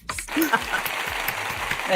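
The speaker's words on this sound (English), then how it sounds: "Round of applause." A canned applause effect of clapping and cheering plays in a costume-crafting chat, a dense crowd-like wash lasting a couple of seconds, mixed with a voice talking over it.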